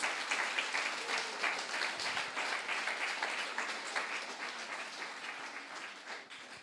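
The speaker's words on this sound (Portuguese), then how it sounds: "aplauso para você na mesa" Sustained audience applause at a church seminar, a dense continuous wash of many hands clapping that fades slightly toward the end.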